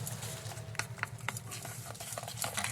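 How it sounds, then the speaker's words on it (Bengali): Gram flour batter with oil is beaten in a bowl for aloo bora, a quiet, steady run of rapid whisking and tapping strokes, close by and without talk. "তেলটা দিয়ে ভালো করে ফাটিয়ে নিচ্ছি"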